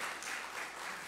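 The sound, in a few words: applause in church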